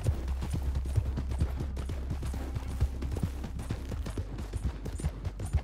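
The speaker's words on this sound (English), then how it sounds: "Ooh, that guy's got a fast horse." Hooves pound in a quick, rhythmic clip-clop as a horse gallops at speed in the video game Red Dead Online, a steady close beat from start to finish.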